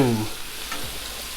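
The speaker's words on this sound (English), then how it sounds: "I'm just gonna push these around. I want it all to be touching the griddle." Shrimp sizzle on a Blackstone griddle at around 400 degrees as they are pushed around, a short, steady hiss following a brief tonal hum at the start.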